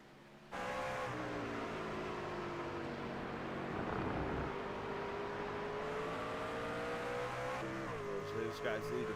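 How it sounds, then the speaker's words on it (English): Race trucks on a racetrack during a pit-stop caution period rumble steadily past, with a swelling engine drone that peaks mid-way and then eases off, while commentary talk runs over the top. "There's the 7 truck going by."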